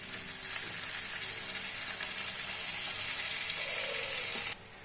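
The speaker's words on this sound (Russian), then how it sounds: "Жарю стебель картошки." Chopped potato stems sizzle steadily in a frying pan, a close, even hiss that continues throughout without talk and cuts off abruptly at the end.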